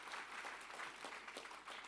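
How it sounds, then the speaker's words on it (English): Audience applause at the closing of an AWS community day event held at a Holiday Inn, a steady dense wash of clapping from a crowd filling the whole stretch. "A huge round of applause for them as well."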